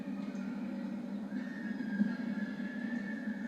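A horse whinnies on a show jumping course, a sustained tonal neigh rising partway through, heard at moderate distance over steady background noise with no talking.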